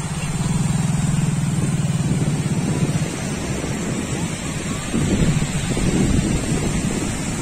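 Wind and waves at Bangau Beach in Kudat, a steady broadband rush of surf with wind buffeting the microphone and a low rumble throughout.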